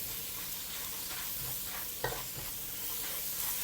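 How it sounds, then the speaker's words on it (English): Garlic and black pepper fry in butter in a pan. A steady, close sizzle runs throughout, with an occasional stir or scrape breaking through, and no voices. "Fry them until fragrant."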